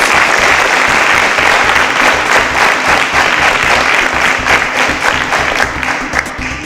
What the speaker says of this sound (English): A round of applause for all our participants